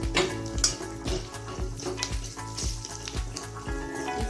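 Onions and spices, chili powder and garam masala, frying in a pan over medium heat, a close steady sizzle with rhythmic scraping stir strokes repeating roughly every half second.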